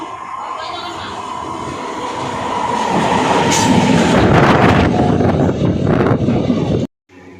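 A train pulls into Indas station, its rumble and clattering wheels swelling louder and closer over several seconds before cutting off abruptly, with wind buffeting the microphone throughout.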